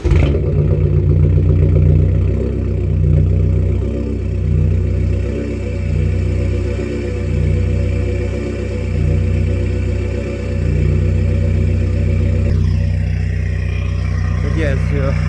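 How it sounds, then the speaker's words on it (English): A diesel car with a complete straight pipe exhaust and 15-inch wheels starts up and idles, giving a loud, steady, close-up rumbling drone that holds unbroken throughout. "it's actually pretty loud. For diesel, it's like I said, a complete straight pipe exhaust"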